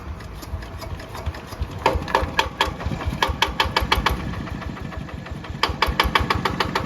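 A small 105 diesel engine on a walking tractor idles steadily nearby, with a rapid knocking rhythm and sharp clattering ticks running through the whole stretch.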